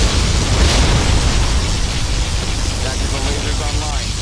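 A particle cannon blast in Command & Conquer Generals Zero Hour, a broad roaring, hissing rumble that starts strong and slowly fades across several seconds, with faint game voices underneath.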